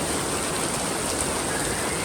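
Heavy rain pours down steadily in a dense, even hiss of water striking surfaces, loud and unbroken throughout with no voices.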